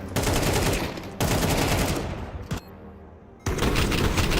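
Rapid bursts of pistol fire crackle in a Counter-Strike match, with dense volleys broken by brief pauses and a lone sharp shot, loud and close.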